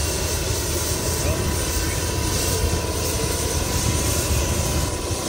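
The tail rotor of a helicopter parked at the Glen spins up, a loud, dense, steady whirring roar that fills the whole stretch and masks any other sound.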